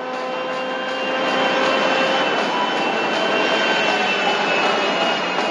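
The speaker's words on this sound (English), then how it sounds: "There's a plane coming in." A passenger airplane's jet engine in the video game GTA 5, a loud steady roaring whine with sustained tonal hum, holding constant and close throughout.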